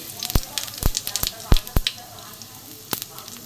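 A bay leaf and whole cumin seeds sizzle in hot oil, tempering for a moong dal with a katla fish head: a steady hiss broken by loud, sharp pops and crackles at irregular intervals.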